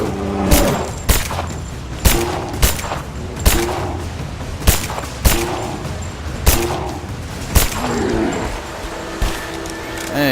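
Video game gunfire plays during a 1440p PC test on a Pascal Titan X, with sharp, loud shots repeating at an uneven pace of roughly one per second over continuous background game noise.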